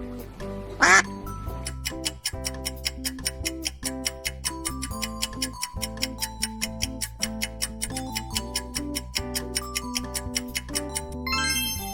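A single brief duck quack rings out near the start, followed by steady, rhythmic background music for the rest of the stretch.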